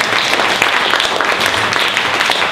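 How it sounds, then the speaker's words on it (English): Dense applause from an audience at an East Metro Tea Party event, a steady wash of many hands clapping at fairly close range with no gaps for the whole stretch. "Everyone give him a round of applause here."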